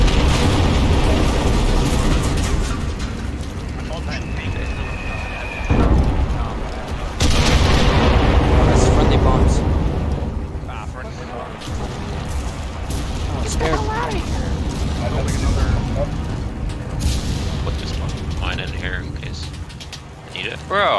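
Repeated explosions and booming blasts rip through a battle in the video game Enlisted, loud and sustained with mechanical clatter in between, while someone talks throughout.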